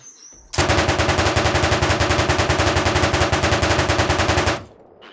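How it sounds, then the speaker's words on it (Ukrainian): Machine gun fire in the video game Arma Reforger: one long, loud continuous burst of rapid, evenly spaced shots lasting about four seconds, starting abruptly and then cutting off. "Нахуя по мені стріляють?"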